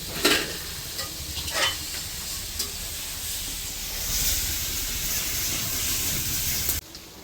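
Pangas fish frying in a pan over a stove fire, a steady close sizzle and hiss with a few scraping stir sounds early on, cutting off near the end, with no speech.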